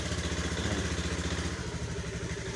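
A Honda Beat FI scooter engine, started on the electric starter, runs with a steady, close mid-pitched idle and a slight shift in tone partway through; no one speaks.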